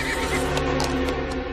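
Large grey horse in an animated cartoon, a loud, close neigh or whinny with a buzzing, wavering tone and light background sound under it.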